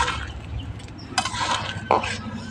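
A spoon stirs egg curry with garam masala in a pan, giving soft scraping strokes and a few sharp clinks against the metal, close and fairly loud.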